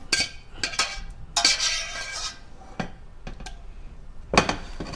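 Glass canning jars of homemade garden salsa clink and knock as rims are wiped and metal lids set on, a series of sharp clatters and scrapes, close and fairly loud, with quiet pauses between.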